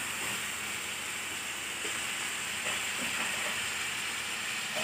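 Kaleji (goat liver) frying in a pan, a steady close sizzle and hiss that holds evenly throughout with no talking.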